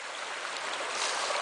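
A small brook trout stream running at high water after rain, a steady close rush of flowing water with broad hiss and no pauses.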